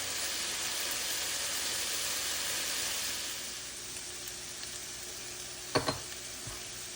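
Potatoes browning in a skillet for corned beef hash give a loud, broad, steady sizzle that eases off after a few seconds, followed by a couple of sharp utensil clicks against the pan.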